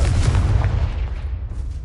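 A Confringo blasting spell goes off in a Harry Potter video game, a loud, deep booming explosion that rumbles for under two seconds.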